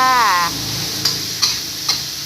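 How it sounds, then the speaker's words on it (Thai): Pork and long beans stir-frying in a hot pan, a steady sizzle with a few sharp scrapes or clacks of the spatula, close by, after a brief voice at the start. "ใส่ถั่วฝักยาวลงไปแล้วก็ผัดให้ถั่วสุกค่ะ"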